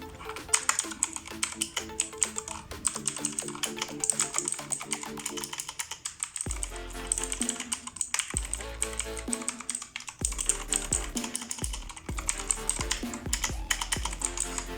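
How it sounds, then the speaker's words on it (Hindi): A Redragon K552 mechanical keyboard is typed on up close, a steady run of sharp clicky keystrokes with brief pauses and a few louder thumps, the clicking carrying on alone. "तो इस तरह से जो मैकेनिकल कीबोर्ड की साउंड होती है वो यही इसी तरह ही होती है।"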